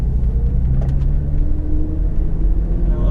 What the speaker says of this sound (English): So let's do a U-turn.